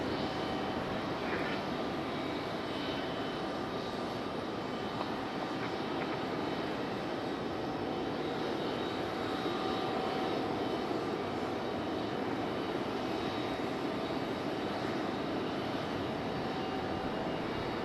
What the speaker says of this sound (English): Now we have our JetBlue A320 on pushback over here from gate C10